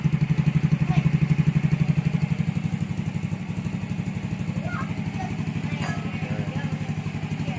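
A motorcycle fitted with a newly installed Apido exhaust pipe idles close by, a steady deep rapid putter with a strong low rumble that continues throughout, with faint background sounds.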